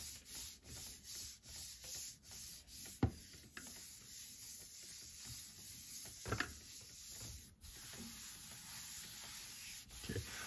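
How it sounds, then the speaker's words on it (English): A hand smoothing paper onto a gelli printing plate makes soft, quiet rubbing strokes in a steady rhythm, with a few louder brushes and faint background hiss. "So I'll just keep smoothing it out."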